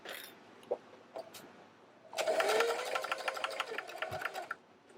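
A sewing machine back stitches a wristlet keychain in one short burst of rapid, rattling stitches lasting about two seconds, close and clear, preceded and followed by quiet handling sounds.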